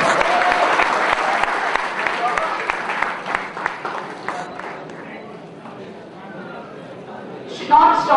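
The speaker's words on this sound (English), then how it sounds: "Should not stop clapping for him." An audience claps for a speaker at an event, with dense applause that gradually thins out, along with some crowd chatter and a voice rising near the end.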